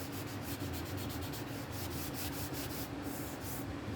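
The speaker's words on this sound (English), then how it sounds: "So just sand in steps" Steady, continuous sandpaper rubbing on the wooden body of a Leo Jaymz 7V guitar kit, close and even with faint rhythmic back-and-forth strokes and no talking.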